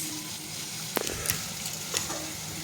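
Potatoes sautéing in a pan with salt make a soft, steady sizzle, broken by a few sharp clinks and scrapes of a spatula stirring against the pan.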